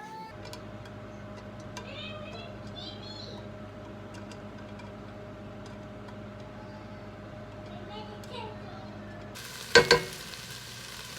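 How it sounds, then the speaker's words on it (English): Steady sizzling and crackling of ham frying in a pan, a constant hiss throughout with a couple of sharp knocks near the end. "so I'm going to fry up some ham"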